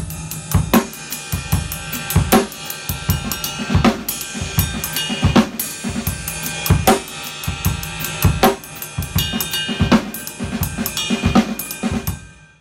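A drum set plays a warm-up pattern with hi-hat on the offbeats, triplet figures and steady kick and snare hits, loud and close with no talk over it.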